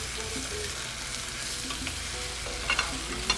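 Cooked rice and beans fry together in a pan with a continuous close sizzle, broken by scraping stirs and a few sharp spatters toward the end.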